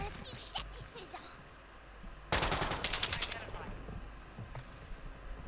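A sudden loud burst of rapid automatic gunfire in a Call of Duty match cuts in over quieter game ambience, then trails off into scattered sounds while someone talks nearby.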